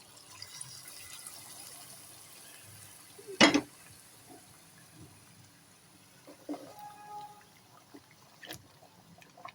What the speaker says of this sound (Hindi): और अब मैं इसमें गर्म पानी ऐड की दे रही हूँ।